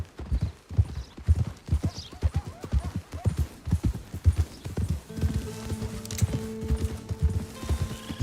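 Horse hooves clip-clop in a video game, a steady close rhythm of hoofbeats continuing throughout, joined near the end by a soft tonal musical score.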